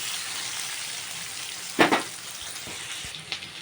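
Chopped onions and whole garam masala fry in hot oil, a soft, steady sizzle broken by a couple of sharp spoon scrapes while they are stirred, with no voices.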